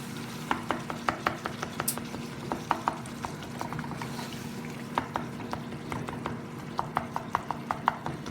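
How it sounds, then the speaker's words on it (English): A spoon mashing aloo matar curry in a pan, repeated soft knocks and squishes at an uneven pace close by, over a low steady hum with no talking. "just keep mashing with your spoon"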